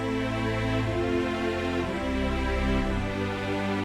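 A chord progression with an added bass line, played back from music production software as sustained layered chords over a steady low bass, even and moderately loud, with no voices.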